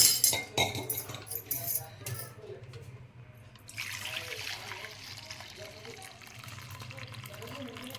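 Water from cooked lentils pours and trickles steadily into a vessel as it is drained, after a few clattering knocks at the start, the flow continuing close and moderately loud.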